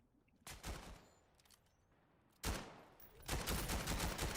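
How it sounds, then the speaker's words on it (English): Flashbang grenades going off in the VR shooter VAIL: three sharp, loud bursts, each followed by a hissing ringing tail, with the last one lasting to the end. "Ooh, a flashbang that flashes the cameraman as well."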